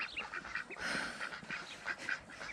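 Several ducks quacking in short, repeated bursts close by, with honking calls overlapping now and then against a busy outdoor background.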